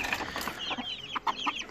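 Swedish flower hens cluck and chirp with their month-and-a-half-old chicks inside a coop, with several overlapping short calls and peeps close by.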